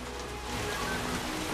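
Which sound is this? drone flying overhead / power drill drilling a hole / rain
rain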